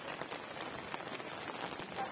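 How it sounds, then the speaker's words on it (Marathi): Steady rain falling on a coastal village near the fort during a monsoon downpour, a soft, even hiss of drops with no talk, faint and constant throughout. "आणि आज सकाळपासून पाऊस चालू झालेला आहे, तो अद्याप इथे चालूच आहे."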